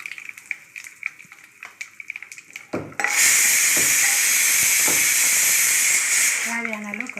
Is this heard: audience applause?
no